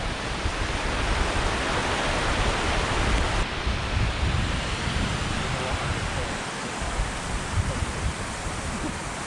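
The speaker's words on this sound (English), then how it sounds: "We made it to the waterfall." Waterfall on the slopes of Ben Nevis rushing with a loud, continuous broadband roar, heard close up with wind buffeting the microphone and no talking.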